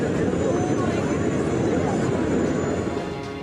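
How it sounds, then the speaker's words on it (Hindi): Tejas fighter jet flying during a demo flight at the Dubai Air Show at Al Maktoum airport, a steady loud broadband engine roar that fills the whole stretch and fades slightly at the end. "फाइटर जेट आसमान में उड़ रहा है।"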